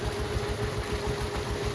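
A steady, low mechanical rumble of an engine running a farm borewell pump at night, with a faint pulsing throb and a constant hum; no voices.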